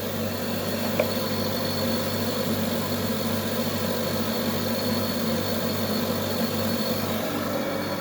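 Electric motor of a tahini and peanut butter grinding machine running at a steady idle, a continuous low hum with faint vibration and no voices.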